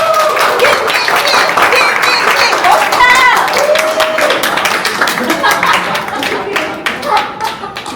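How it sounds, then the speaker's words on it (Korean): A church audience at a Thailand mission trip parents' meeting claps steadily and fairly loudly, dense applause that continues throughout with voices and cheers mixed in. "박수 한번 칠까요?"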